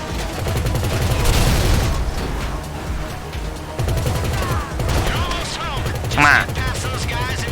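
Gunfire in the video game GTA V: dense bursts of rapid automatic shots roll on for several seconds at close range, with a brief lull and a sharper blast near the end.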